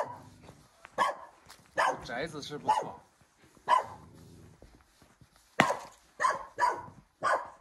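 A dog at an old rural house in Guizhou gives several sharp, separate barks spread through the moment, loud and close, with someone talking between them.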